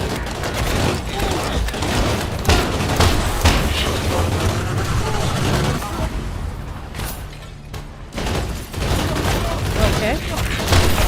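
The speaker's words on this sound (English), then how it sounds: "Why do I hear grenade noise?" Dense gunfire and booming grenade explosions fill the Crime Boss video game in near-constant loud bursts. A brief lull falls before the barrage resumes.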